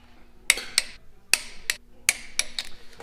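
A torque wrench tightens the bolts of an upgraded 15G turbo on a twin-turbo 6G72 Mitsubishi 3000GT VR4, giving about eight crisp metallic clicks in irregular bursts over a faint background hum.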